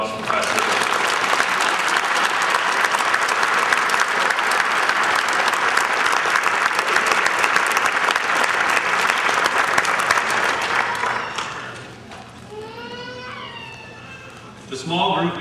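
A large audience applauds a graduating Captains Career Course class at a military graduation ceremony, steady dense clapping for about eleven seconds before fading into talk, with a brief swell of clapping returning at the end.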